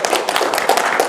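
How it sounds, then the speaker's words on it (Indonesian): An audience at a Jakarta health-service talk gives a brief round of applause, with quick, scattered hand claps that last only about a second. "Tepuk tangan berikan dong buat Bapak Ibu dong"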